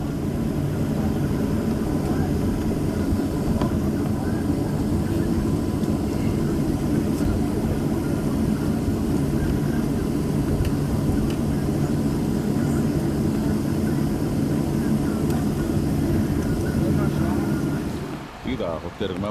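Aircraft engine at Jeju Island airport, a steady loud roar with wind noise that holds throughout and drops away abruptly near the end.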